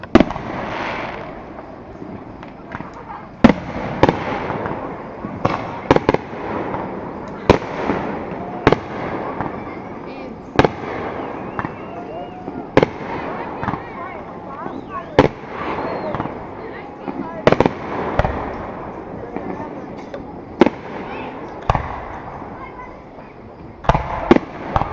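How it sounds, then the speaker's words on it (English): Fireworks go up over a golf course beside a lake, with repeated sharp bangs and crackles at irregular intervals over a steady murmur. A person talks throughout. "we are looking directly at the golf course where the fireworks are now going up."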